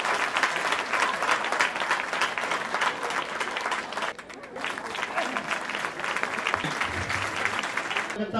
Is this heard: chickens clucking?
no